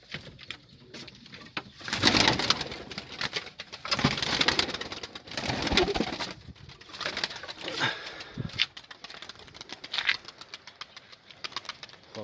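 Game pigeons coo repeatedly amid bursts of wing flapping and fluttering, with a steady low engine-like rumble underneath.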